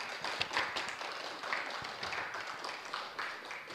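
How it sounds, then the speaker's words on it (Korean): Audience applause at a Korean church meeting, steady dense clapping from a crowd sustained throughout at moderate distance. "한 번 더 박수 보내주세요"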